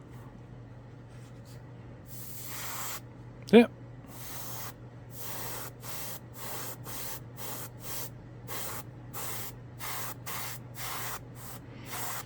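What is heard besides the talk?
gravity feed airbrush spraying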